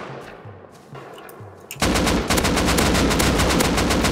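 After a few quiet, soft thumps, rapid automatic gunfire erupts in the Rust video game and continues as a loud, sustained burst of shots with no talking.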